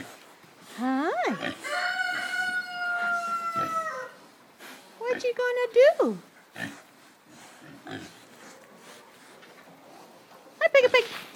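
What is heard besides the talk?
weaner piglets grunting and oinking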